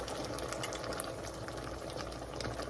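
Sauce goes into a hot pan of chicken Manchurian and gets stirred, producing a steady, close sizzling bubble with a dense hiss and no talk.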